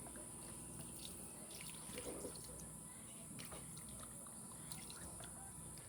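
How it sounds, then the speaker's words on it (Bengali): Water poured from a container onto a potted rose plant, a steady close splashing and trickling that runs through the whole stretch at an even level, with a faint hiss above. "দেখুন আমরা জল দিয়ে দিচ্ছি"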